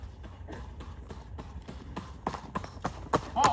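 A single horse carrying a rider comes along a road at pace, its hoofbeats clopping in a quick, steady rhythm that grows louder and nearer toward the end, during a historical ride reenactment.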